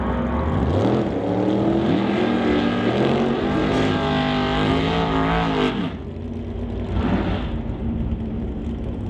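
Drag race cars roaring down the strip at an NHRA Summit ET Series event, including a Quality Racing Duster, with a loud sustained engine howl whose pitch climbs and shifts before easing off and returning more faintly.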